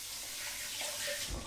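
Cold tap water runs steadily in a kitchen sink to rinse a metal cooking skimmer, a brief continuous splashing hiss close by with no talk.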